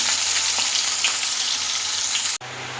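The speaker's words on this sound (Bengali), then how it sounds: "দুটো করে আমি মাছ ভেজে নিচ্ছি" Pieces of rohu fish fry hard in hot oil in a pan, a dense close sizzle with small pops that cuts off abruptly near the end, leaving a low hum.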